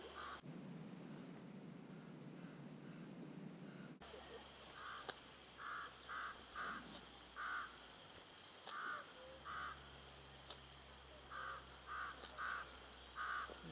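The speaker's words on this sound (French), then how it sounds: "On écoute les oiseaux." Birds call outdoors in short repeated bursts, some caws among them, over a quiet ambient background with a low hum.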